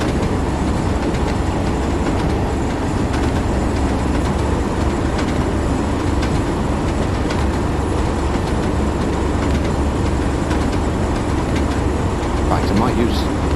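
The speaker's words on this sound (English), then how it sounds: "let's use some loco brake to bring us down to 35" Train Sim World locomotive on the Tees Valley Line slowing under loco brake, a steady loud rumble of running gear and wheels on rail with a faint squeal near the end, continuous throughout.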